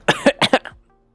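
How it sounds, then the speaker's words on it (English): A person coughs after choking on saliva: four sharp, loud, close coughs in two quick pairs, followed by a short wheezy rasp, then quiet. "Choked on my spit"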